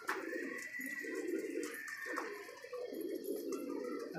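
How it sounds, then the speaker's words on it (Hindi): Pigeons coo in soft, repeated low rolling calls, moderately close, with faint chirps and outdoor ambience behind them. "इस साल हमारे कबूतर ही बहुत ही परेशान कर रहे"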